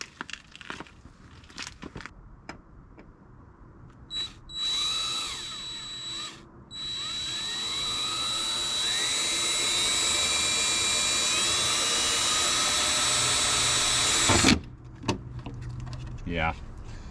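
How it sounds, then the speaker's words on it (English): A power drill bores mounting holes for truck tail lights: a brief spin-up, then one long, steady high whine lasting about ten seconds, with clanks and handling noises before and after. "And then I'm just gonna start drilling holes"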